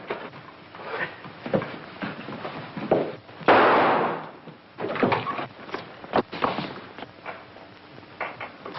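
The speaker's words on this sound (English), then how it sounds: "I tried to take the gun away from him, but it went off." A gun going off during a struggle in a 1944 film scene: a sudden loud crack-burst that rings out and decays over about a second, amid scuffling and door-like bumps in an old, band-limited recording.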